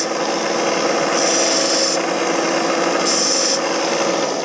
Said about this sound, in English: your handy dandy little knife sharpener, which I use for all kind of stuff, and you hit it with this